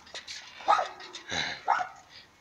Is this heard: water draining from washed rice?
no